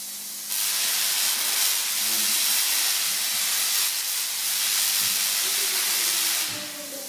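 A high-voltage Tesla coil of about 100,000 V discharges in a Nikola Tesla demonstration cabinet in Zagreb, giving a steady, loud, hissing crackle over a low hum that starts abruptly and holds for several seconds.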